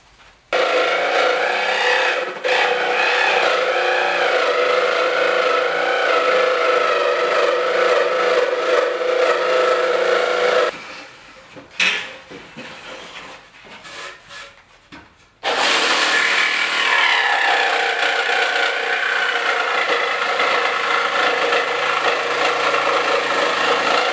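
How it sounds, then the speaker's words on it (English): A battery jigsaw cuts a glued-up wood board with a loud, rasping, buzzing roar. It runs steadily, breaks into a few short stop-start bursts midway, then resumes a long continuous cut. "We'll just let the jigsaw decide where we go on it. Alright, let's cut them up."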